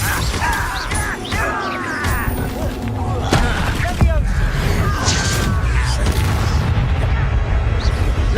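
Confringo blasting-spell explosions in Hogwarts Legacy crack and boom repeatedly through dense game combat noise, with a voice talking over the busy, continuous mix.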